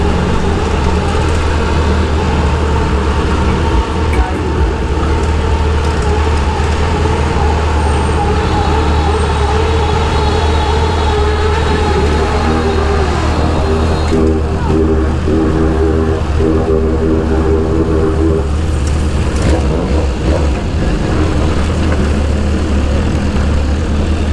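A BMW S1000RR motorcycle rides through traffic at about 115, its engine droning steadily beneath surrounding road noise, with shifting tones as other vehicles pass nearby.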